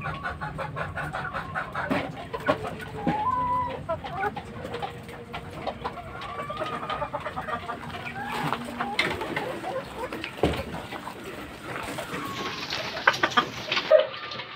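Fighting-breed hens cluck and murmur close by in a steady, busy stream, with other birds cooing in the background and occasional soft noises.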